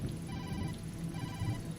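In the video game Tokyo Dark, a phone rings from inside a filthy paper bag in a dumpster, a faint, muffled electronic tone that persists steadily over a low, noisy background hum.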